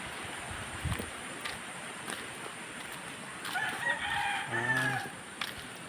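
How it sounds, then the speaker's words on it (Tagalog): A rooster crows once at a moderate distance near a river, a drawn-out cock-a-doodle-doo rising over steady outdoor noise. "May manok."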